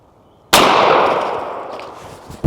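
A .357 round fired from a carbine into a watermelon: one loud, close blast that rings out and decays slowly for about two seconds, with no voices.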